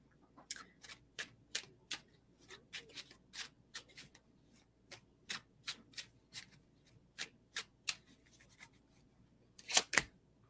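Tarot cards being shuffled by hand before a card pull, a quiet close series of crisp riffling snaps and taps in an irregular rhythm, with a louder flurry at the end.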